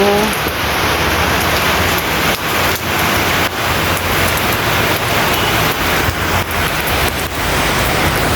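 Steady hiss of rain falling continuously, broadband and dense, with no voices and only slight fluctuations throughout.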